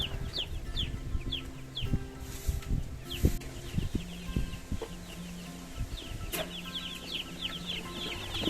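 Several chickens cluck and mutter nearby in a steady, irregular stream, with small birds chirping faintly in the background and occasional knocks and rustles around them.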